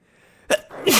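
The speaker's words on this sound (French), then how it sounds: "Je vais éternuer" A close, loud sneeze in two bursts, a short intake followed by a sharp explosive release, in an otherwise quiet room.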